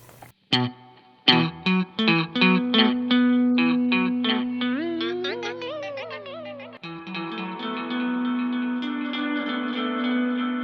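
Guitar played through the Safari Pedals Fox Echo Chorus plugin with reverb and echo, loud plucked notes and chords ringing into lush repeating tails and a swelling wash, alone without talk.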